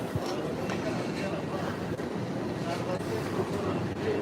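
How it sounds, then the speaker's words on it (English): A Class 720 train sits at London Liverpool Street station, a steady low rumble under the busy, echoing concourse hum, with people talking nearby throughout. "This train here, this class 720"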